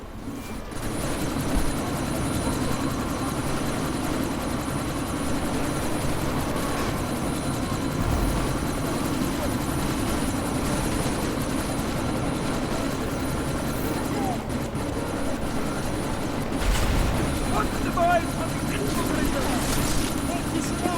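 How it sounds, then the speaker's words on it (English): A helicopter in Deus Ex: Mankind Divided drones with a steady whirring rumble throughout, loud and constant under voices talking over radio during a sandstorm. "you need to disable that chopper"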